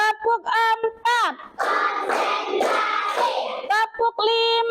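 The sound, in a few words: class clapping hands in rhythm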